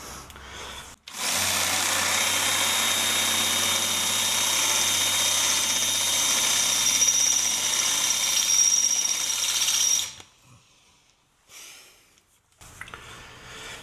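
A power drill bores out a bolt head on a neglected R53 Mini Cooper S, one long steady loud whine of about nine seconds that stops abruptly, followed by brief quieter handling noise.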